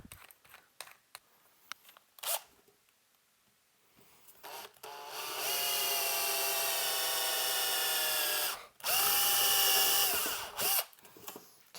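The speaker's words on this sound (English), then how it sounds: "drill a little pilot hole." A power drill whirs steadily for a few seconds drilling a small pilot hole in a chassis for an amplifier, briefly pauses, then revs again, after some scattered clicks and handling noises.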